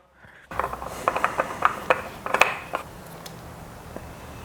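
An oil filter being screwed back on during boat maintenance, a run of close, sharp clicking and scraping ticks, irregular and fairly loud at first, then thinning into a faint background hiss.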